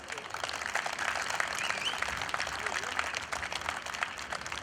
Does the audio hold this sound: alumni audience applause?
yes